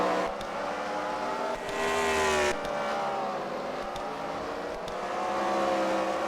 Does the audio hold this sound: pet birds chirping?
no